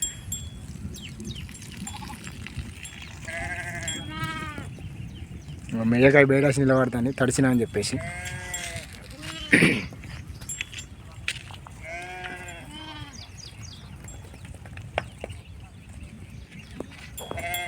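Several sheep bleat in wavering bursts, some close and loud, others farther off, while a person talks intermittently over a background of light rain.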